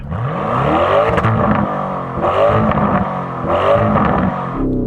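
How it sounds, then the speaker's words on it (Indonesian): A 4-litre V8 car engine revs loudly and close by in three sustained surges that climb in pitch and then fall back, with no other sound competing. "Rev up your 4-litre V8."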